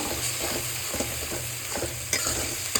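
Dried fish with salt, garlic paste and green chilli paste being stirred in a pan, a steady close sizzle with repeated scraping strokes of the spatula at a regular rhythm.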